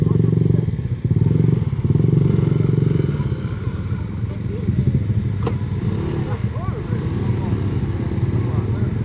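A motorcycle climbs a rough, rocky road, its engine loud and close with uneven revving, clattering and thumps from the surface, while people talk over it.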